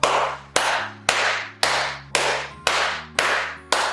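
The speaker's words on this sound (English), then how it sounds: "Before I made this project, I made a clap test and this is how it sounded." Single hand claps in an untreated room before acoustic panels are installed, eight sharp claps at an even pace, each followed by a long ringing room echo.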